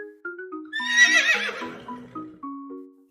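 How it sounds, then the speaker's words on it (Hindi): A horse gives a loud, shrill whinny that rises and trembles, set against simple sustained musical tones in a children's rhyme song. "हॉर्स।"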